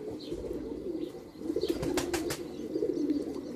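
Strong flying pigeons coo in low, rolling calls close by, with a brief clatter partway through and the murmuring continuing steadily.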